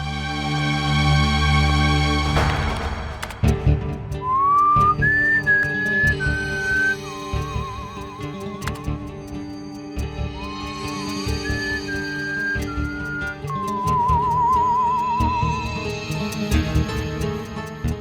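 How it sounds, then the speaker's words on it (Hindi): Someone in a booth whistles a wavering melody into a microphone, clear sustained notes over background music and a dramatic score, with sharp hits at the start. "आप लोग एक एक करके वहां उस केबिन में जाएंगे और माइक के सामने सीटी बजाएंगे।"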